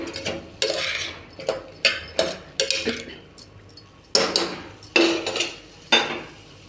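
A metal spoon stirs raw banana curry in a pan, making repeated clanking scrapes against the metal in an irregular rhythm of about ten sharp, close, fairly loud strokes.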